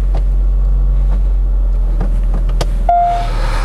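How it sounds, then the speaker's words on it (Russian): A Korean car with a tuned exhaust system idles with a deep, steady low rumble, joined by a few short clicks and a brief whirring tone near the end. "видимо, какая-то выхлопная система тюненная идет"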